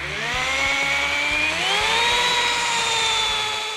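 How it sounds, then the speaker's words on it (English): A power buffer polishes a car, its motor holding a steady whining drone that rises slightly in pitch partway through, loud and close with no talking. "So I'm gonna get back to buffing now."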